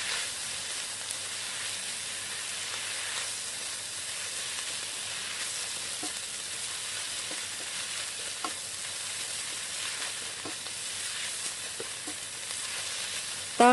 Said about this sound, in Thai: ใส่ใบกะเพราลงไปจากนั้นก็ผัดต่อค่ะขั้นตอนนี้เราจะผัดไปเรื่อยๆค่ะจนกว่าใบกะเพราจะสลดลงไปค่ะ